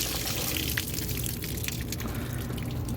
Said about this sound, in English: you'll see water's kind of bubbling out